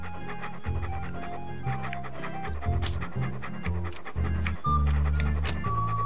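Walt the dog pants in rapid rhythmic breaths throughout a Monkey Island 2 game scene, steady and close over a looping, blocky background score, with no talking.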